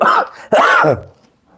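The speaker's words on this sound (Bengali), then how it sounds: "একটু জোরে কথা বললেই কাশি হচ্ছে" A single close, loud cough and throat clearing from a person who is having breathing trouble, two harsh bursts followed by fading quiet.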